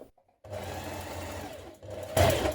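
A sewing machine stitches a shirt collar seam, whirring steadily for a couple of seconds, pausing briefly, then starting again louder, close by and with no talk.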